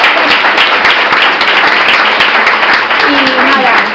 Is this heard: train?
no